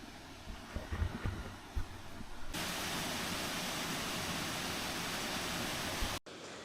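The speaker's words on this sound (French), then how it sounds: "Allez, une dernière vue sur la cascade" A Norwegian fjord waterfall roars as a loud, steady rush of water, starting quieter with some knocks before swelling to a constant wash, then cutting off abruptly.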